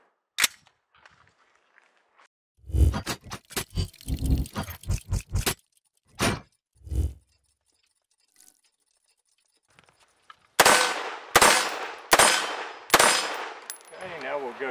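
Rifle fitted with a Franklin Armory BFS3 binary trigger firing outdoors: sharp loud cracks with ringing decays come in quick succession near the end, after quieter scattered clicks and clatter earlier.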